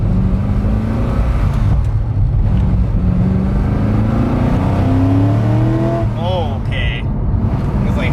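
A Mitsubishi Evo III with a very large aggressive cam runs and revs, its engine droning loud and close with rising and falling pitch sweeps, while people talk over it.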